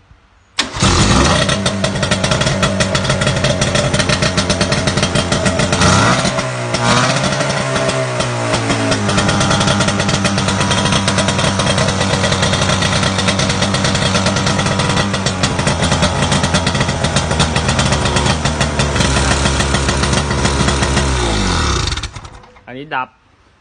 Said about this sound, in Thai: จะสตาร์ทเครื่องให้ดูแล้วครับ